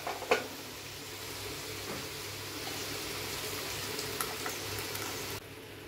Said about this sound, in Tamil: நல்லா போட்டு வதக்கி விடுங்க. கொஞ்சம் வதங்கட்டும்.